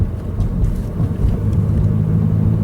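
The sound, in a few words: manual six-speed car driving while shifting gears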